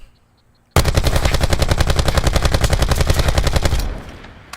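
Sustained automatic assault rifle fire in Black Ops 4, one rapid unbroken burst of evenly spaced loud shots lasting about three seconds before cutting off, close and alone.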